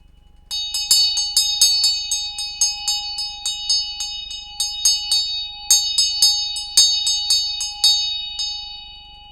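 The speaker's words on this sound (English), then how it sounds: "it's just making me want to ring the bell" A bell struck repeatedly in quick, uneven bursts, each bright metallic ring decaying briefly before the next strike, fairly loud and close over a low steady hum.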